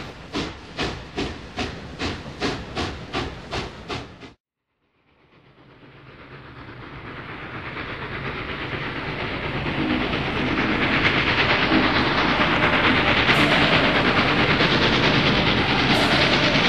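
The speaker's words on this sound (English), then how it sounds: "I caught a steam-driven train which took a week to cross Siberia" A steam-driven train crossing Siberia in deep cold chuffs in a quick, even rhythm for several seconds. It then cuts to silence before a broad hissing rumble of rolling stock swells up and holds steady.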